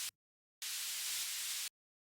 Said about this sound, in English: Which just adds white noise just to crisp it up in the high end